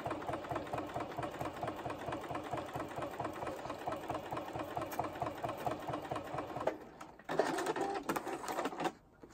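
A sewing machine stitches through acrylic-painted raw canvas and batting on a quilted pineapple artwork, running in a fast, even mechanical rhythm for about six seconds before stopping, followed by a few shorter, sharper mechanical sounds.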